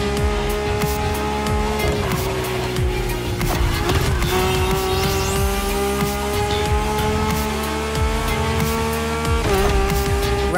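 Lamborghini race cars roar in The Crew Motorfest racing game, a loud sustained engine drone with rising and falling revs, gear shifts and tire squeals, with no talk over it.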